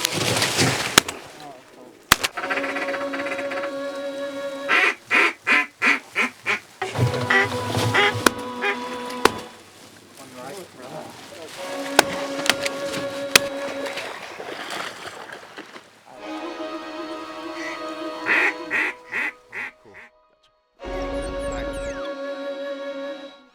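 Ducks quack during a cold-weather duck hunt, bursts of rapid nasal calls coming in repeated rhythmic runs with pauses between, fairly close, with a few sharp pops mixed in.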